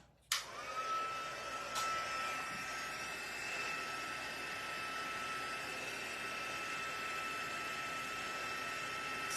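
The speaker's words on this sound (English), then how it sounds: "Now let's heat gun this." Heat gun switched on for heat embossing, a sudden start that settles into a loud, steady, close airy blowing whine that runs without a break.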